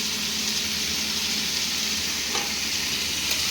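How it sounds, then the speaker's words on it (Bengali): Chicken with turmeric frying lightly in a pan gives an even, continuous sizzle close by, with a faint scrape of stirring partway through and no voices. "একটু হলুদ দিয়ে জাস্ট একটু হালকা ফ্রাই করে নিই"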